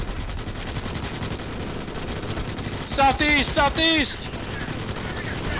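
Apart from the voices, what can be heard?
gunfire in Starship Troopers: Extermination video game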